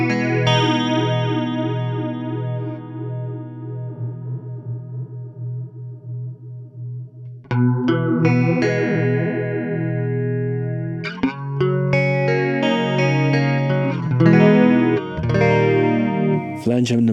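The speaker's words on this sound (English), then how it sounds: "Let's actually go to the flanger sound that this pedal has also built in." An electric guitar runs through the built-in flanger setting of a chorus pedal, with sustained chords and single notes sweeping in a slow whooshing swirl, followed by busier, louder strummed passages.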